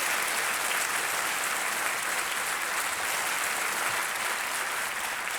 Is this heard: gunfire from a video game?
no